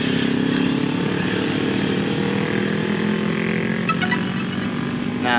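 Propellers of a DJI Mavic 3 Classic drone spin up after start, giving a steady close buzzing whir at moderate level with a few faint beeps near the end, no talking.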